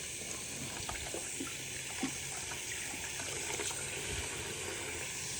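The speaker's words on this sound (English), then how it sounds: "I'm going to rinse his arm off" Warm water running from a tap to rinse a baby's arm, a steady soft splashing stream at close range, fairly quiet and continuous with faint trickling variations.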